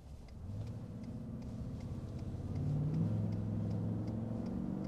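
A tuned Ford F-150 with a Coyote 5.0 V8 engine rumbles steadily up close, its low drone swelling louder partway through as the revs climb, with no voices over it.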